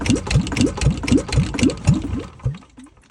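A Kawasaki Ninja motorcycle engine cranks erratically in a fast, uneven series of about ten rough turning pulses. It then falters, gives one last weak turn and falls silent, loud and close.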